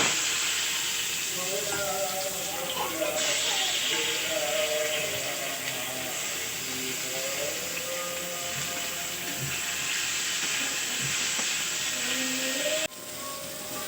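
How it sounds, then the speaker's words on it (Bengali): Raw mango pieces dropped into hot oil with popping mustard seeds and dried red chilli give a steady, loud sizzling hiss that lasts throughout, with faint voices or tones in the background. "সর্ষেটা ফুটে গেছে, এবার আম দিয়ে দিচ্ছি।"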